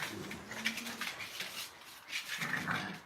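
A puppy gives low, faint growls mixed with thin whimpers and squeaks, close by and intermittent over quiet background, with no speech.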